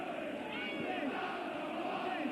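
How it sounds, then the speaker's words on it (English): Home fans at a Gillingham versus Manchester City League Cup football match jeer and protest at the referee, a steady, distant roar of massed voices filling the stadium without a break. "The crowd pretty unhappy with the referee at the moment, or at least the home fans are"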